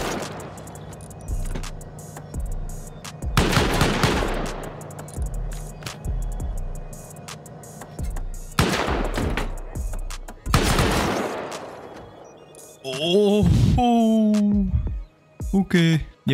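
Automated turrets firing during a base raid in a survival video game, with several long bursts of rapid gunfire in waves, loud and near, and a person talking between the bursts.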